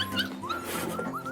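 A beagle whimpers and yips in a short run of high, wavering whines with a brief bark, close and fairly quiet.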